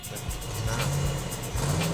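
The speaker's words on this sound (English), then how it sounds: "He spun the tires." A Factory Five Cobra kit car at a drag race revving hard as its tires spin, a loud, rough engine roar with repeated rising and dropping pitch sweeps.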